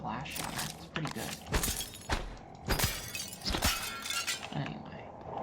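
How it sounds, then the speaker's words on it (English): Glass shatters repeatedly in the sci-fi video game Prey: several sharp, bright breaking crashes with tinkling debris, fairly loud, spread across the clip with short gaps between impacts. "really like the glass shatter"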